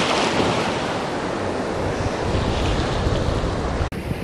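Stormy sea surf pounds a beach in Anapa in a continuous loud roar of breaking waves, with heavy wind buffeting the microphone and a brief dropout just before the end.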